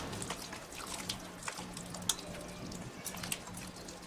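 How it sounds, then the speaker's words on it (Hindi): Water trickles and splashes softly into a bowl of yogurt and bread toast mixture in a kitchen, with small drips and light sloshing throughout and no voices. "इसमें मैं थोड़ा सा पानी ऐड करके इसमें डाल दूंगी।"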